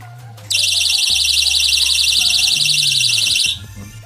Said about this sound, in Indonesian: Apabila dia digabungkan begini, alarm ini tidak bisa menyala. Dan apabila dia dipisah,